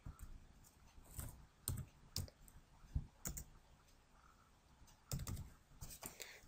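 A handful of separate key presses on a computer keyboard as a PIN is entered, soft clicks spaced irregularly with a quick double tap near the end, quiet and close with no talking.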